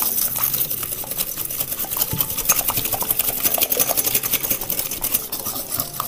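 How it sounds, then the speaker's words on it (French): Two eggs whisked vigorously in a mixing bowl for a cake, a rapid, continuous rattling clatter of the whisk against the bowl, close and fairly loud throughout with no voices. "Je casse mes 2 œufs dans le saladier. Hop. Et on va fouetter énergiquement comme d'habitude."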